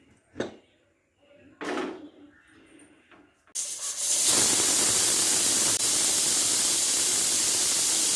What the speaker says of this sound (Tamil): இப்போ வந்து நம்ம குக்கர் திறந்து பார்ப்போம்